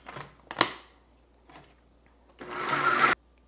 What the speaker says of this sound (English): So we're going to throw these all in the food processor, and now we're going to blend.